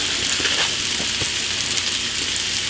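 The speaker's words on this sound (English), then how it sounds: "So I'm going to get the pork right into the pan." Pork frying in hot oil in a pan, a loud, continuous close-up sizzle with a dense hiss and small crackles throughout.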